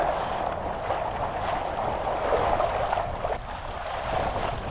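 Wind buffeting a sailboat on the approach into Tangalooma along the Australian east coast, a steady broadband rush with gusty swells and water noise throughout.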